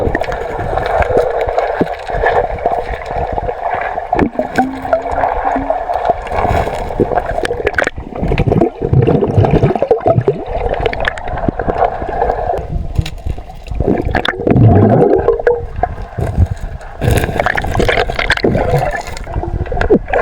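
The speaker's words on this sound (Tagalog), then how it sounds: "malakas po yung agos" Strong river current rushing and gurgling, loud and close, with splashing and churning water that surges and swells over the whole stretch; no speech.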